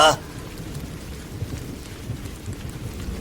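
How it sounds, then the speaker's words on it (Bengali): Heavy rain with a thunderstorm in a village at night, a steady dense wash of rainfall with low rumbling that holds at an even level throughout, with no distinct single thunderclap standing out. "বাইরে তখন প্রবল ঝড় আর বৃষ্টি আকাশে বিদ্যুৎ চমকাচ্ছে মেঘ গর্জে উঠছে গুড়মুড় করে"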